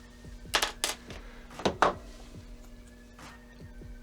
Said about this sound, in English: We'll cut another piece off the sprue and turn this around.